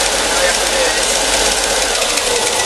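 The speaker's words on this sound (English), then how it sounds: "it generally does work best when you turn the belt sander on." A belt sander runs continuously close by, a loud, steady motor whir with abrasive hiss that stays even throughout with no pauses.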